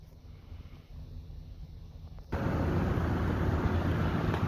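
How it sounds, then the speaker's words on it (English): A 2022 Chevrolet Suburban Z71 lowering its suspension: a low, steady hum and rumble heard from inside the cabin that steps up abruptly into a louder, broad whirring drone about halfway through and holds there. "You can hear the vehicle lowering."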